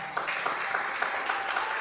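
A church congregation claps for the Lord in a faint, distant wash of applause with a loose rhythmic pulse, steady and quiet throughout.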